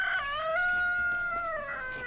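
A rooster crows loudly and close on a farm, its long drawn call rising and holding steady for about two seconds, with faint clucking from other chickens beneath it.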